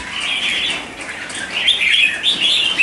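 A caged red-whiskered bulbul sings in bright chirping phrases that grow busier toward the end, close and fairly loud over a soft hiss of background noise.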